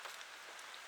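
Rain falling outdoors makes a soft, even patter across surfaces, a brief, faint and steady hiss with no voices.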